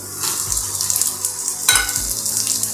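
Peas, chopped capsicum and carrot go into a hot pan for semolina upma and sizzle loudly, with a couple of sharp bursts as they land and scraping stirring throughout.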